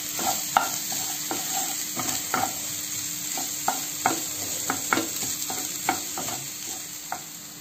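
Shrimp sauce frying and sizzling in a pan, with a steady hiss and repeated sharp scraping clicks of a utensil stirring at an uneven rhythm, close and alone without talk.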